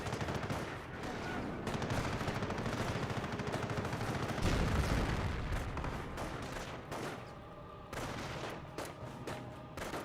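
Sustained bursts of .30 cal machine gun fire rattle through a Company of Heroes battle, joined by other gunfire and heavy booms, loud and continuous across the whole stretch.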